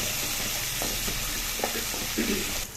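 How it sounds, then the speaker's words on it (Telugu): Ginger garlic paste fries with onion in oil for a crab curry, a dense continuous sizzle close by with occasional scraping stirs. "అల్లం వెల్లుల్లి పేస్ట్ వేగిపోయింది కదా ఉల్లిపాయన"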